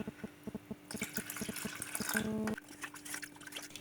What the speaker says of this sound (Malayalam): വെള്ളം പോരാ നമുക്ക് കുറച്ചുകൂടെ ഒഴിച്ചു കൊടുക്കാം